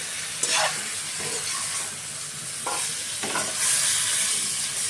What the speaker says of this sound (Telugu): వెంటనే ఆ ముక్కలు కూడా వేసేసుకోవాలి, ఆలుగడ్డలు వంకాయలు